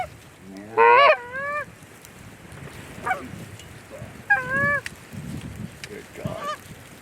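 Geese honk repeatedly outdoors during a goose hunt on the Kansas plains, a loud nearby call followed by several fainter honks at a distance over steady wind and background rustle.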